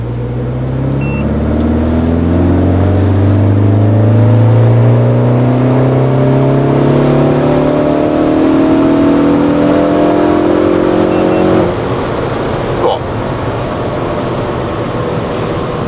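A Ford Focus ST with a tuned exhaust and modified engine software, revved hard on a tuning run, the loud engine note climbing steadily for about twelve seconds before cutting back to a lower idle.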